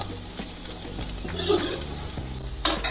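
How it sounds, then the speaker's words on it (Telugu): Homemade ginger garlic paste fries in a pan for a chicken curry, a steady close sizzle with light stirring clinks and scrapes and a brief louder clatter near the end. "ఇవి కొంచెం ఫ్రై అవ్వనివ్వాలి"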